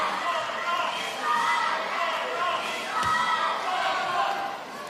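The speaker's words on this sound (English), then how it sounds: "This crowd taking any opportunity to cheer these players on." Crowd noise fills a South Paris arena at a goalball match, a steady cheering roar throughout with a sharp thud near the middle and commentary talk over it.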